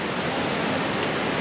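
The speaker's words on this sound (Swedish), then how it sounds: "Det här är alltså Sydostasiens största vattenfall." Southeast Asia's largest waterfall in Laos roars as a steady, dense wash of rushing water, loud and unbroken throughout, with no voices.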